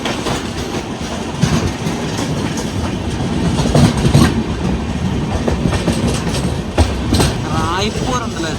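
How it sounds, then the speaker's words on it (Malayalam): Raipur–Secunderabad express train passing Charlapalli railway station, a loud, close, continuous rumble with rhythmic wheel clatter on the rails and a faint squeal near the end, while someone talks over it. "റായ്പൂർ ഉണ്ടല്ലോ, ഛത്തീസ്ഗഡിലെ റായ്പൂർന്ന് സെക്കന്ദരാബാദിലേക്ക് വരുന്ന ഒരു എക്സ്പ്രസ് ആണ് ഇതേ പോകുന്നത്."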